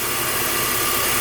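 A BMW E46 M engine runs at idle with the AC, headlights, rear demister, heating and radio all switched on, a loud, dense, steady drone with a faint whine riding on top, close and without talk.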